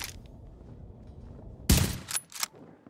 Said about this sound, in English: I'm about to shoot you again.